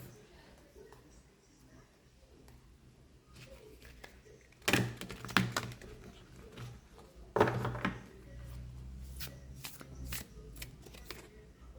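A deck of oracle cards is shuffled during a pick-a-card reading, with two bursts of riffling and a few lighter card taps and handling sounds, quiet and close, with a voice speaking softly in the background.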